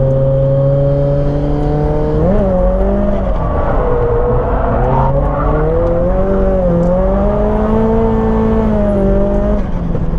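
Yashio Factory Nissan S15 drifting at Nikko circuit, its engine holding a loud, close, sustained drone whose pitch wavers and rises and falls as the throttle shifts, with no voices.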